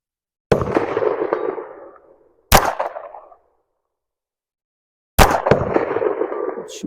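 Three sharp, loud reports from a Walther PPK/S pistol chambered in .22 LR at a shooting range, each with a short decaying echo, the first two about two seconds apart and the third after a longer pause.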